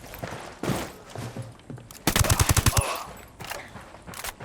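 A rapid burst of automatic gunfire from a Ghost Recon Wildlands cutscene, loud and close for under a second mid-clip, with scattered thuds and muffled scene noise around it.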